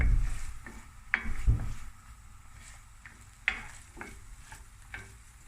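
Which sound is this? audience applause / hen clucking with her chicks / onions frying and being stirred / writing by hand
onions frying and being stirred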